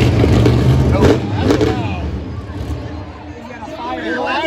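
Kraken monster truck with a broken valve spring piece loose in the motor, its engine droning and revving loudly without climbing in pitch, under a crowd hubbub at a Monster Jam World Finals freestyle event, with talk over it.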